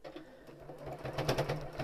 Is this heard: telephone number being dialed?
no